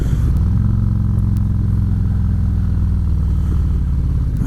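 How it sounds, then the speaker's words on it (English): A BMW motorcycle riding past, its steady low engine drone loud and close throughout with a faint clatter on top and no voices. "Nice bike, nice Beamer."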